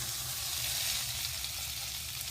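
Mirepoix sizzles steadily in a hot pan as it browns, darkens and starts to catch slightly for an elephant-garlic and potato stew; the frying is close and even, with no break and no talk.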